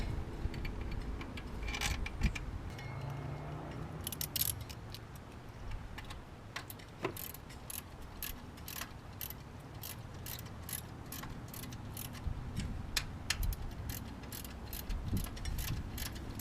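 Ratchet wrench tightening alternator mounting bolts on a 2004 Ford Explorer XLT, a series of quick metallic clicks in short bursts with brief pauses, close by, no talk.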